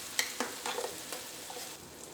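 Ground spice paste frying in coconut oil for a spicy pork roast, with scattered crackles and stirring scrapes at close range, faint and without talk.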